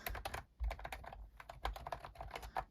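Typing on a cordless 2.4GHz wireless typewriter-style keyboard: a fast, steady run of soft, muted key clicks close by, fairly quiet with a brief pause near the start.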